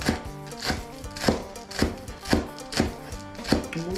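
Som tam papaya salad pounded in a mortar, a steady series of regular thuds, roughly two per second, close and fairly loud with no talking.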